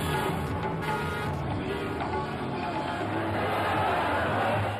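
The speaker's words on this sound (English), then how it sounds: "Here too, he's met by huge crowds." Huge crowd at an Imran Khan PTI rally in Chichawatni, a Punjabi town: a dense, constant wash of many voices and cheering, steady and loud throughout, with some nearby talk mixed in.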